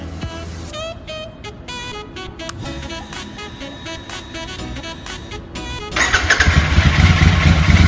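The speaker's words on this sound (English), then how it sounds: "When the engine roars to life," A Royal Enfield Super Meteor 650 motorcycle engine starting: a series of starter clicks and whirring cranking, then the engine catches and settles into a loud, steady idle that rumbles on to the end.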